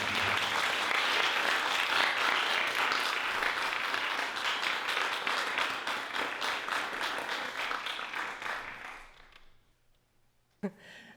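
An audience at a literary reading applauds steadily for about nine seconds while a grant recipient is welcomed to the stage, with dense clapping that fades out and ends with a single sharp thump.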